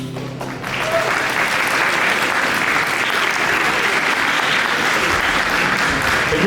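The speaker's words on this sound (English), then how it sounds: "One more round of applause, please." An audience at a media day event bursts into sustained, dense applause after a musical performance, loud and close, holding steady for several seconds with a few faint voices beneath.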